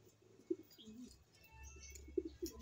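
Pigeons coo softly in short throaty bursts, a few scattered calls over faint background noise.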